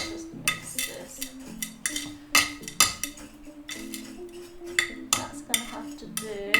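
Soil being mixed for a tropical terrarium inside a reused plastic container with holes, giving a run of scraping, clinking knocks in uneven bursts, close and fairly loud, with no talking.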